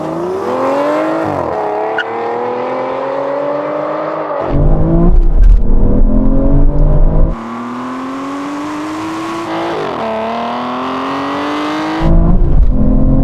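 Aston Martin V12 cars, including a DBS, roar through a rolling drag race, engines climbing in pitch through long pulls and dropping sharply at each gear shift, loud and continuous with no voices.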